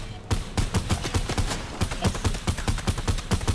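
Rapid bursts of video game gunfire crackle in a dense, uneven volley, with sharp shots stacking close together and a brief gap near the start before the firing resumes.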